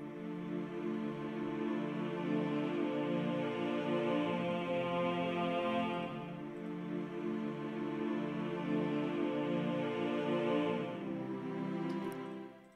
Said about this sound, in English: The pad sounds like this